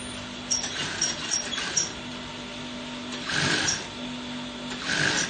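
A sewing machine stitching the corner of a child's senator top fabric, with short buzzing bursts of needle motion between quieter pauses, close up and without talk.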